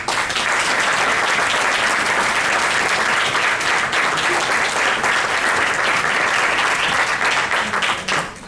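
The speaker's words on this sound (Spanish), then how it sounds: "Fuerte el aplauso para todos ellos." Strong, sustained applause from an audience at an architecture award ceremony. Many hands clap loudly and steadily throughout, with no speech.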